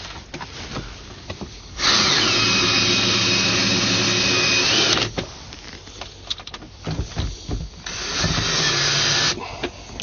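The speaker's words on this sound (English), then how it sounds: "let's go ahead and do the remainder of the fasteners here" A power drill drives fasteners into pontoon boat furniture, whirring in two sustained bursts of several seconds each, with quieter handling noises between them and no talking.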